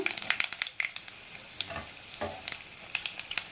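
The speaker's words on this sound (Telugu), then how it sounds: "ఇవి కూడా కాస్త ఫ్రై చేసుకుందాం ఇలా" Garlic and cumin seeds frying in seasoning oil for a leafy greens curry, crackling and popping close by in quick irregular bursts with a few brighter spits, and no one speaking.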